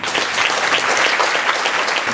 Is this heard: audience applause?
yes